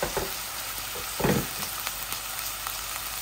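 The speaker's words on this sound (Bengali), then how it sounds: "আমার এই অনিয়নটা চিকেনের লাল লাল হোক, ভাজা ভাজা হোক" Onions and chicken sizzle steadily in a hot pan, with a few louder crackles and stirring scrapes over the continuous frying hiss.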